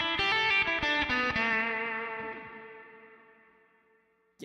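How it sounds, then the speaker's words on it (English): A guitar played clean through a Neural DSP amp plugin with echo and reverb: a run of plucked notes and a chord ring out, then a long wet tail slowly fades to near silence, with no voices. "Let's get a little bit of an echo reverb to it."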